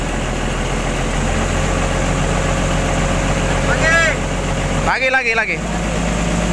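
Diesel engine of a Komatsu PC200-6 excavator with a movement fault, running loud and close as a steady heavy drone that swells slightly, while someone briefly speaks over it.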